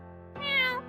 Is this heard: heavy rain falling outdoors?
no